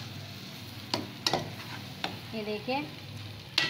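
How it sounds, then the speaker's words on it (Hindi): Potatoes being stirred into a spice masala in a pan for aloo chutney, with a few sharp scraping clacks of the spoon and a soft sizzle, plus a brief spoken phrase. "ये मैं इसे अच्छे से इसमें सारे को मिक्स कर रही हूँ।"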